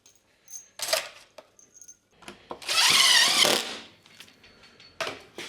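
A power drill drives screws to fasten the firewall panel on a Model A hot rod in a workshop, with a sustained whirring burst of about a second amid light tool clatter and clicks.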